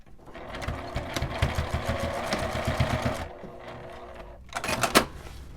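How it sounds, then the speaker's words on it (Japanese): A sewing machine stitches slippery nylon fabric, its needle chattering in a fast, close mechanical run that stops abruptly, followed after a brief pause by a short, sharp burst of machine noise. "ナイロンは滑りやすいので縫う前に一度ミシンの針を落として整えてから縫います。"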